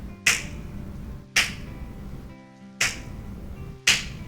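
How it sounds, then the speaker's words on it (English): Four sharp, loud finger snaps spaced over a few seconds, close and bright, each a crisp crack over a faint hum with no talking. "I can actually snap my fingers so loud that I'm audible over a room full of people talking"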